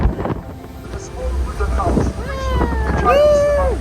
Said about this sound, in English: Very windy when you're moving. So windy It's hard to stand.